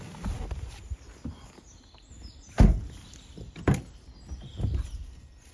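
A door on a 2020 Nissan Navara 2.3 DCI 190 Tekna pickup is pushed shut onto its body catch, giving a few dull thuds and clunks over quiet background.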